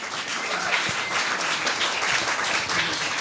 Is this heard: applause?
yes